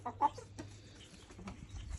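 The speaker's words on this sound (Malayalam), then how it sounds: "ഇപ്പം നിലവിൽ നമ്മുടെ വരെ ഒരു 8 കോഴിയുണ്ട്." Backyard coop in Australia with a flock of about eight chickens, seven hens and one rooster, giving a couple of brief, faint clucks near the start over quiet outdoor ambience.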